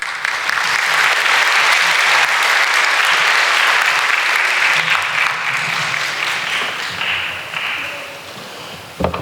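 An audience at an Islamic Association of North America marriage-preparation event gives a long round of applause after a talk, a loud sustained wash of clapping that eases slightly and stays unbroken.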